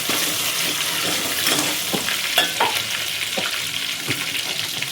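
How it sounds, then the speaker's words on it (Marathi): Ginger garlic paste fries in hot oil in a pan for a chicken curry, giving a close, steady sizzle with scattered pops and crackles throughout. "तर आता इथं आपलं थोडस अद्रक लसूणचं हे होतं पेस्ट, ते टाकून घेऊ मस्त पैकी."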